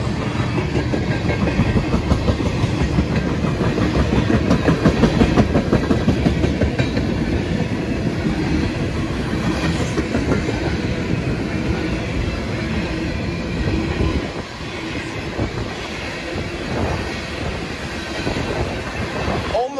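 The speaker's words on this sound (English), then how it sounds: "they're ethanol trains" An ethanol freight train rolls past close by at Sturgeon Point Road, Derby, New York, a steady rumble with clickety-clack of wheels and occasional metallic squeal, loud and continuous.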